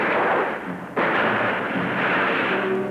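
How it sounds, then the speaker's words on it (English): Rifle fire from World War 2 archive combat footage of Marines advancing on an airfield, a loud, dense stretch of crackling gunfire that surges sharply about a second in and keeps rolling without pause. "Enemy riflemen bar the way."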